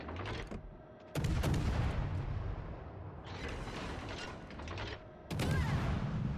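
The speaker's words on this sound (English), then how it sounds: "Just keep unloading the guns while we've got them." Warship guns in World of Warships Legends fire in two loud, sharp booming salvos with mechanical clatter and rumbling battle noise between them, and no voices.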